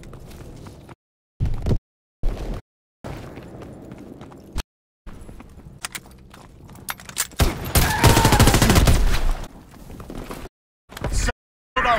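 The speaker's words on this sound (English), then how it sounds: "Sending mortar rounds." Mortar rounds and gunfire in the World War II shooter game Call of Duty WW2, with sharp shots separated by short silences, then a dense, loud sustained barrage near the end.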